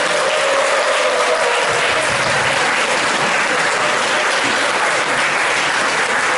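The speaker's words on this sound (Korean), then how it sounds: "박수로 맞아드립니다." A crowd of workers, citizens and elderly people in an auditorium applauds to welcome a Justice Party lawmaker, loud sustained dense clapping filling the room throughout with no speech.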